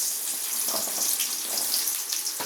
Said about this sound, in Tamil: இப்போ வந்து வெங்காயம் ஆட் பண்ணிக்கிறோம்.